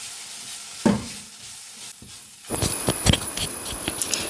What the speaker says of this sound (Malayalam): ഇനി നന്നായിട്ടൊന്ന് ഇളക്കാം.